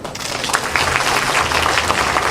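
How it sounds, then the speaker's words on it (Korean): Dense, steady applause from a large audience fills the hall at a Gyeonggi Province Farmers' Day and Women Farmers' Day ceremony, continuous and fairly loud throughout. "다시 한 번 큰 박수 부탁드립니다"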